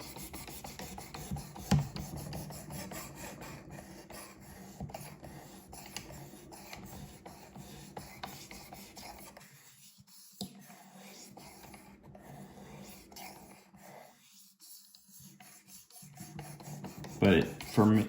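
A knife blade rasps back and forth across the stone of a Work Sharp Precision Sharpener in steady close strokes, with short pauses between passes.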